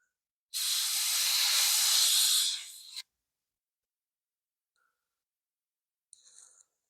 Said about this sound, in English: There's some minor airbrush touch-ups to do, but not too bad.